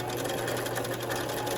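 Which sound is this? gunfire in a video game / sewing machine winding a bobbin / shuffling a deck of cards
sewing machine winding a bobbin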